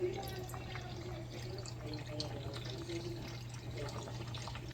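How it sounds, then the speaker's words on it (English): Cream poured into a nearly finished seafood chowder simmering in a pot, a steady soft liquid pour with a faint bubbling undertone and a constant low hum throughout. "just add the cream."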